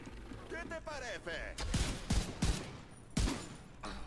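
Gunfire in The Division 2 gameplay: several sharp, loud shots burst out in an uneven sequence over a background of game effects and voices.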